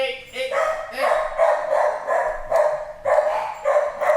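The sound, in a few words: dogs barking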